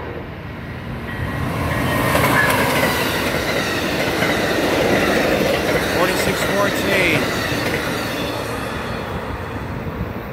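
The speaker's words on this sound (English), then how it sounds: "Northbound Amtrak train." A northbound Amtrak Superliner passenger train rumbles past nearby in Thomasboro, Illinois, rising to a loud roar with wheel clatter and a faint squeal, while a voice speaks briefly.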